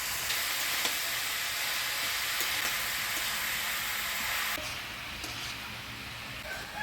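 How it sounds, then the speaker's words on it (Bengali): Bottle gourd being stirred with salt, turmeric, green chilli and spices in a pan in a Bengali village kitchen, a steady close sizzle with occasional scraping clinks that eases slightly partway through. "লাউর সাথে মশলা দিয়ে ভালো করে নাড়াচাড়া করে নিলাম"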